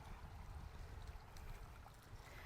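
Water trickles and splashes continuously down a garden waterfall among planted beds, producing a soft, even rushing wash that is heard alone at a fairly quiet level.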